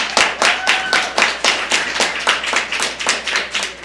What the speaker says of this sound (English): Yes, that's worthy of applause.